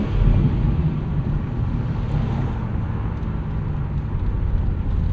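A 2025 BMW M2 with its 473 hp engine and six-speed manual drones steadily with the windows down, a loud, constant low rumble blended with rushing wind buffeting the cabin, no voices over it.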